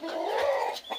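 Free-range country hens clucking near their laying spot, a short burst of close, moderately loud calls ending in a brief higher cluck.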